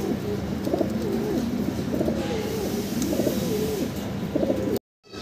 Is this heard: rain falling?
no